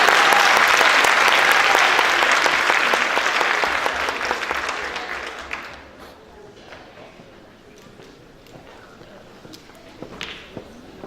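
An audience applauds loudly as a speaker is welcomed onto a stage at an evening event; the dense clapping fades after about six seconds, leaving scattered claps and quieter room sound with voices.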